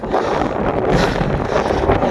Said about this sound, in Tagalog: Lakas yung hangin.